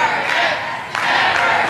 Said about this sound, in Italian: La folla scandisce, mai più.